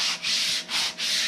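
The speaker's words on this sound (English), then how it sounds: "I am just going to use my sanding block, which is basically just a nail file." A nail-file style sanding block rubs against paper-napkin-covered card edges in three steady back-and-forth strokes, close and fairly loud with brief pauses between, no talking.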